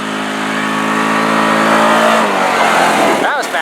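Yamaha Rhino UTV in low range four-wheel drive accelerating from a standstill to 25, its engine a loud, close, steady roar that climbs in pitch before easing off at the end.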